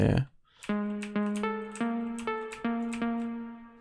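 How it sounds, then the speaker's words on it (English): After a brief opening sound, a bright synthesizer arpeggio steps through plucky notes following the chords in a quick, regular pattern, soft and alone, in a melodic house production in FL Studio. "Next thing we have is an arp that sounds like this."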